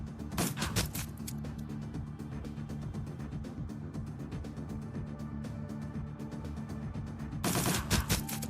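Dense gunfire in the video game Shadowrun Dragonfall, a steady stream of rapid shots with heavier loud bursts at the start and again near the end.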